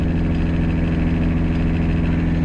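A Toyota Kijang 2L diesel engine running at around 2000 rpm or above, with transmission noise in a steady, loud, low droning rumble that holds constant without talk.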